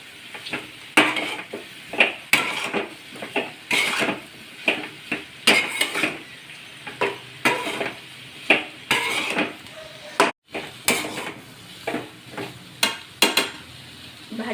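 Mashed, crumbled boiled potatoes being stirred and sautéed in a pan for a dry potato dish, with a steady run of spatula scrapes and clinks against the pan over a soft sizzle, close and fairly loud with no talking.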